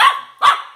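A dog gives two sharp, loud barks close by, each a quick bright burst with a short gap between them, and no voices.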